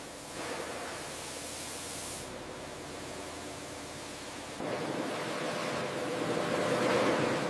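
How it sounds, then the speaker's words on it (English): High-pressure water sprays and rotating brushes wash watermelons in a processing plant, a steady broadband rushing hiss that grows louder and denser partway through, with no voices. "High-pressure water and rotating brushes remove dirt and residue"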